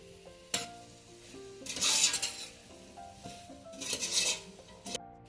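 Cauliflower and tomato with salt get stirred in a frying pan, a metal spoon scraping and clinking against the pan in two bursts over a soft sizzle, with no one speaking.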